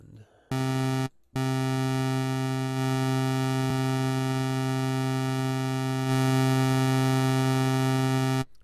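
A synthesizer tone from a single oscillator with a switched waveform in Pro Tools, a loud steady buzzing drone with rich harmonics that cuts out briefly near the start, then sustains and brightens slightly toward the end.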